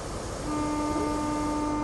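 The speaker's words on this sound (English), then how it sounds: "We are going to sound the horn." A train horn sounds in Train Sim World on the Paddington to Didcot route: one steady, clear, sustained tone that starts abruptly and holds for well over a second above a low cab rumble.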